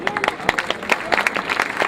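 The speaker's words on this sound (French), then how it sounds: "Bon, on les applaudit très fort." A crowd applauds at the inauguration of Place de Gaulle, brisk scattered clapping close by, with a voice speaking over it.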